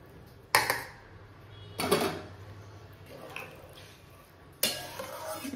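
Dal and fried vegetables tipped into a cooking pot, giving three separate clattering thuds and scrapes spaced a second or more apart, with a quiet kitchen background between them.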